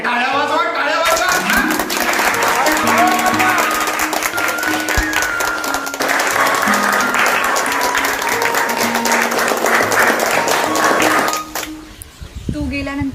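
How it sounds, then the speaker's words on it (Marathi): Sustained applause and clapping for a student who came first in the state, a dense wash of claps running nearly the whole time alongside music and voices, then thinning out near the end. "अरे टाळ्या वाजवा, टाळ्या वाजवा."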